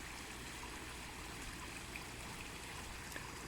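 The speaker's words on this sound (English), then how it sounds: "The waterfall is nicer looking now." A small garden waterfall trickles steadily over rocks, a close, continuous wash of running water with no voices, holding an even level throughout.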